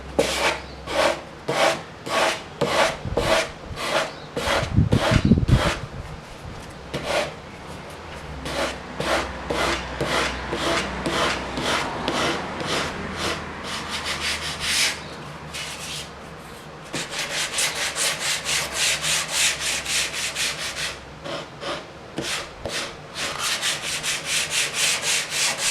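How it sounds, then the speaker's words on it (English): Steady rhythmic rasping of a sanding block rubbed back and forth over the wood veneer of a vintage hi-fi, close and loud, with brief pauses between runs of strokes. "back to the sanding block."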